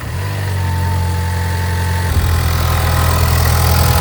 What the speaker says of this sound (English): So now let's fire it up, take it for a drive